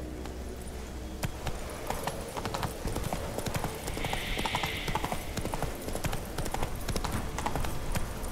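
Hoofbeats of a horse galloping in the video game The Witcher 3 run in a steady, fast clip-clop rhythm throughout, close and fairly loud, with game ambience underneath.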